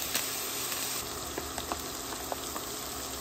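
Butter added to a hot pan with sausage and bacon grease sizzles softly and steadily, with faint crackles and pops over the continuous hiss.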